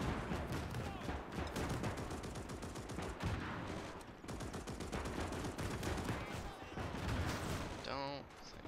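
Dense, continuous gunfire and explosions in Gates of Hell: Ostfront, a battle in Libya in 1941, with overlapping shots and heavy blasts throughout and a short voice near the end.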